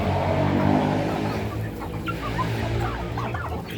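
Native chickens cluck and murmur close by at a farm pen, soft overlapping calls over a busy outdoor background with no talking.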